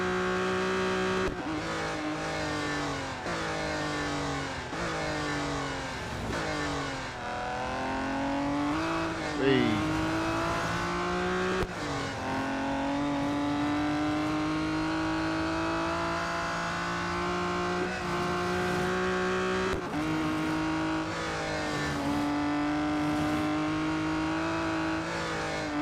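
A Mazda 787B race car in Real Racing 3 revs hard, its engine note climbing and dropping through gear changes and braking, with a few tyre squeals under spoken commentary.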